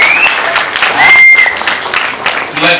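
A crowd at the launch of the first song of the film Sambavami Yuge Yuge breaks into loud, close applause with a brief whistle-like tone, while voices carry on beneath it.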